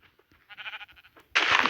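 Minecraft sheep or goats bleat in a short series of wavering calls, followed by a louder, harsher burst at the end; no one speaks.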